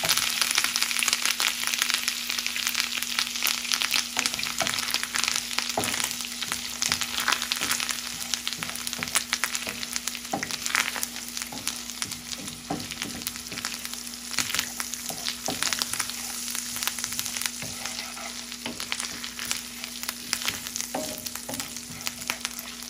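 Chili and ginger paste cook in a pan, a steady crackling sizzle with a constant low hum underneath and frequent small pops throughout.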